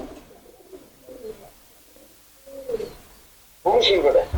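A racing pigeon from Savar gives low, soft coos in short separate phrases, fairly near, before a louder burst of sound near the end, with people talking around it.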